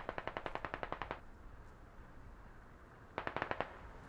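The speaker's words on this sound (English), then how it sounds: "Shots happening somewhere." Two bursts of automatic rifle fire in the shooter game Squad, a rapid string of sharp cracks, then a pause with quiet background, then a shorter burst; moderately distant and with no talking.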